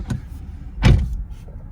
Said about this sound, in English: Got the door open, so let's close that.